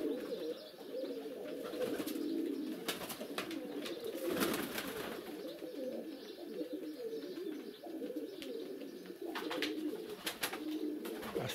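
Pigeons coo at a feeder, a steady murmur of low, overlapping cooing from several birds close by, with occasional wing flutters and scuffing taps throughout, no voices.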